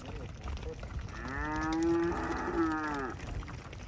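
A single long, loud moo from a cow during a cattle drive in Jackson Hole, rising and falling over about two seconds against open outdoor background noise.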